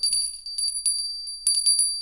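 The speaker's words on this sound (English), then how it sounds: "the bell don't ring right away" A small hand bell rings in bright, clear bursts, struck repeatedly in an uneven rhythm of quick jingles and pauses, close and fairly loud with a sustained metallic ring, no talking.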